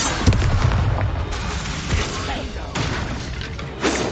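A Confringo blasting spell explodes in a Harry Potter video game, with several booming bursts spread across dense, continuous battle noise; the blasts are loud and close, and a voice may be faintly present underneath.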